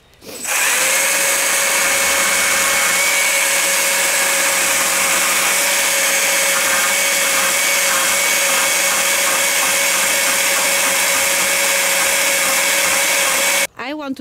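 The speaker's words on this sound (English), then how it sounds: "A baby chainsaw." A small electric chainsaw runs steadily and loudly at close range for about thirteen seconds, a constant whining motor tone in a spring garden, then cuts off at the end.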